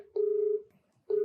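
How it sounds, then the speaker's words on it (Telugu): Touch-tone telephone keypad dialing for an outgoing call: two steady tones, the first held about half a second, a pause of silence, then a second tone beginning, moderately loud and alone. "ఒకసారి మరి కాల్ చేయమంటే మాట్లాడతానండి"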